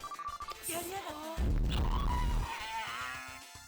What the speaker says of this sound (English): That's exactly what a dying horse sounds like.